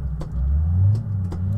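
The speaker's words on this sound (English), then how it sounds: "Okay, I think we have engine sound." Car engine idling with a low steady rumble in City Car Driving Simulator, close and fairly loud, with faint clicks over it.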